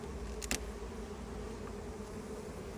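Honey bees buzz around a Langstroth beehive during an inspection, a faint steady hum with one brief louder burst near the start.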